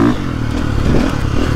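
Dirt bike engine pulling hard in second gear on a wooded trail loop, heard close as a steady, rough, throaty drone with faint rattling and scraping from the ride throughout.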